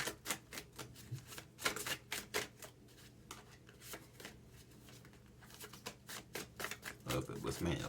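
Tarot cards are shuffled by hand close up in rapid, uneven bursts of riffling and slapping, with short pauses between runs and a faint low hum beneath.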